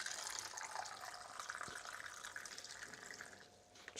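Water runs steadily from a tap into a cup on a construction site, a continuous close hiss and splash lasting several seconds before easing off near the end.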